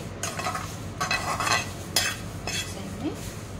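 Tender tamarind leaves fry in a pan with a steady sizzle, while a spoon stirs and scrapes through them in several distinct bursts, close and moderately loud, with no talking.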